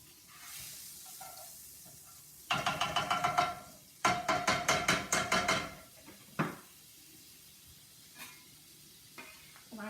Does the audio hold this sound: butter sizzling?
yes